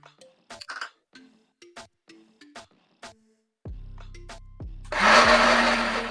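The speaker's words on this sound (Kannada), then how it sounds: "ಇದಕ್ಕೆ ಸ್ವಲ್ಪ ನೀರ್ ಹಾಕೊಂಡು ರುಬ್ಕೊಂಡ್ಬಿಡೋಣ" Mixer grinder grinding ucchellu chutney with water, preceded by scattered clinks and taps of ingredients being added, then the motor roars up loudly in short pulses before a sustained, harsher whir.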